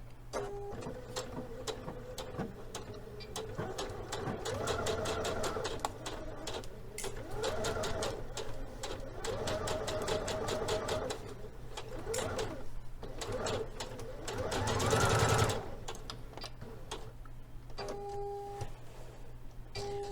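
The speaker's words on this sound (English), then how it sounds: "we're going to simply follow the chalk line of our dart until we are sewing right off the edge of the fabric" A sewing machine stitches a dart along a chalk line and runs off the edge of the fabric, a steady rapid whirring hum that rises near the end, with faint pigeon coos in the background.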